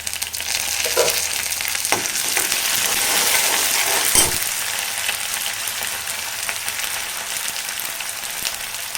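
Curry leaves, ginger and garlic frying in a pan for an egg tomato curry, a loud continuous sizzle with a few sharp spatters and clinks along the way.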